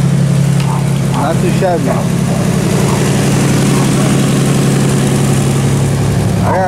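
A healthy motorbike engine idles steadily in the foreground, a low throbbing hum that runs throughout, with someone talking over it.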